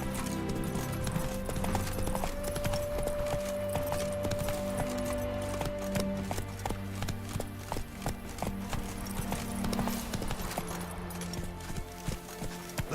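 A horse gallops in The Witcher 3, its steady clip-clop hoofbeats pounding in fast rhythm over layered game ambience and a low musical drone.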